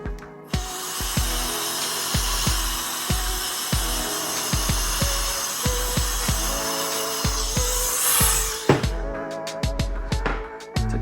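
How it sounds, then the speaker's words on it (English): Short bursts of an air duster blowing hair off a hair clipper's housing, a hissing spray interrupted by repeated sharp clicks and taps, close and steady before trailing into scattered knocks. "Take my air duster and just get all that hair off of the housing right here."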